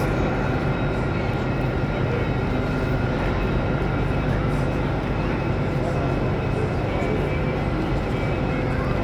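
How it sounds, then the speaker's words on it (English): Busy King's Cross train station in London, a loud constant roar of station noise with engine hum and crowd murmur, voices talking throughout. "This is one of London's busiest train stations."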